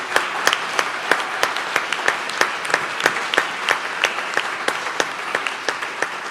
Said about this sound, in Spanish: quiero darle un aplauso a Iglesia Briarwood por su apoyo